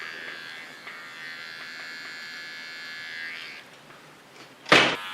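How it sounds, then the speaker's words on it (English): Small electric hair clipper buzzing steadily while trimming the hair contour, close and even for about three and a half seconds, then fading, with a brief loud clack near the end and no speech. "I clean the contour with my smallest clipper."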